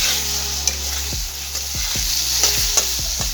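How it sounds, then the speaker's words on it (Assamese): Potatoes fry with meat masala and garam masala in a pan, a steady close sizzle under repeated soft knocks and scrapes of a stirring utensil. "এতিয়া মই ইয়াতে দিম ফ্ৰাই কৰি থোৱা আলুখিনি আৰু আলুখিনি অলপ সময় মই এনেকৈয়ে ভাজি থাকিম"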